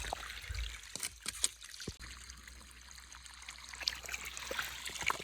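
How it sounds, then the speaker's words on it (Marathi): Water leaks from a burst irrigation pipeline on an onion farm, making a steady, continuous trickling and splashing rush with a few scattered clicks and knocks. "ही पाईपलाईन जर मध्ये निघली बघा, एवढं पाणी आपलं वायाला गेलंय"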